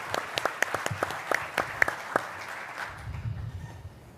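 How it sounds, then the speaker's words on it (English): Sparse applause from a small audience at a conference, with a few people clapping in separate claps that thin out and then stop. "Let's give our moderator a round of applause."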